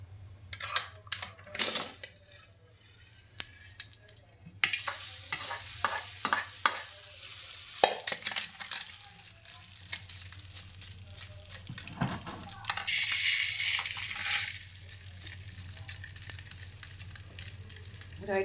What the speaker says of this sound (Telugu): ఆ తాలింపు కూడా దీంట్లో కలుపుతానండి.